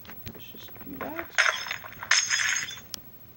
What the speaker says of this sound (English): So let's just break through the glass.